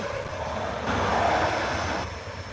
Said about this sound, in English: cheeky little photo bomb by Ryanair just landed